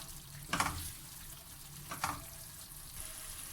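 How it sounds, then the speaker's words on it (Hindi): Tomato paste for a shakshuka egg omelette sizzles and fries in a pan, with two brief louder bursts of stirring or spattering over a steady hiss. "आपने इसका पानी खुशक होने तक इसको पकाना है, ताकि टमाटर का जो पेस्ट है उसका पानी बिल्कुल खुशक हो जाए।"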